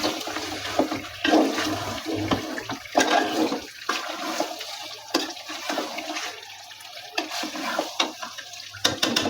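Beef curry spices for gorur mangsho bhuna sizzle and sputter in hot oil, with rough, uneven bursts of frying and stirring that keep swelling and dropping close by, and no talking.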